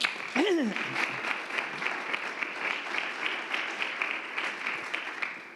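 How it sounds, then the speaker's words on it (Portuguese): A church congregation applauds steadily, with many hands clapping in a loud continuous patter while a raised voice cuts in briefly near the start. "Aplauda o Senhor, meu irmão."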